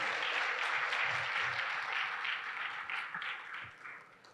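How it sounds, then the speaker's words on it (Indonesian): An audience at a cyber security and internal control conference applauds the panelists, a broad wash of clapping that is fairly distant and gradually fades out. "Mungkin rekan-rekan berikan tepuk tangan dong ke para panelis"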